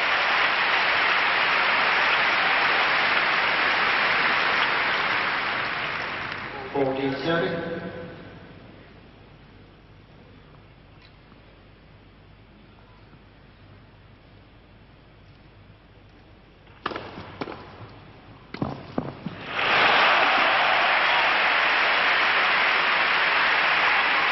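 Crowd applause at the 1985 Davis Cup final tennis match between Michael Westphal and Mats Wilander, a dense, loud wash of clapping that fades, stays quiet, then swells again, under French commentary.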